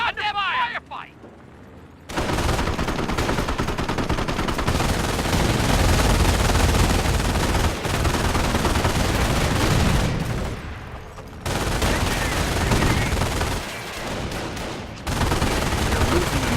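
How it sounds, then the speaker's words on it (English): Dense battle noise from the World War II strategy game Company of Heroes: sustained rapid machine-gun bursts and rifle fire, loud and continuous, with brief lulls, and a voice calling out near the start. "Right in the middle of a goddamn firefight!"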